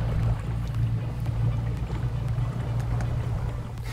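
Inflatable Parsun PR 340 air-deck boat running under a Haswing Osapian 55 12-volt electric outboard, a steady low hum with water wash rolling continuously, close and moderately loud throughout.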